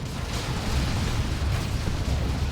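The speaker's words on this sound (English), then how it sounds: "Eating shots from the Sentinel missiles." Sentinel missiles strike units in the Dawn of War 2 battle, Space Marines against Imperial Guard, with a dense, continuous barrage of rumbling explosions and booms that stays loud and steady throughout.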